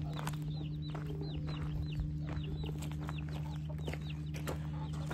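Chickens clucking at close range, a series of short, repeated calls over a constant low mechanical hum, with no one speaking.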